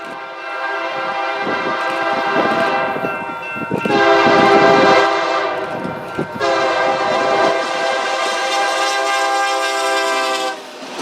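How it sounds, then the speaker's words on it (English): A Union Pacific local freight train led by a standard cab SD60 locomotive passes at Oakwood Bottoms, loud and close, its horn sounding in long blasts over rumbling wheels and clattering cars. "Number 4 is the UP local coming back at Oakwood Bottoms with a standard cab SD60 leading"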